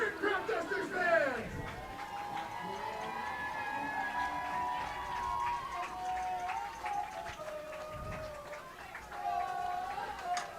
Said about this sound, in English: The crowd's cheering wildly for Salvatore.